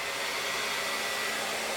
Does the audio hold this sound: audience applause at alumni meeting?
no